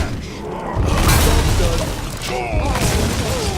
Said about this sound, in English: So I might as well destroy this trap.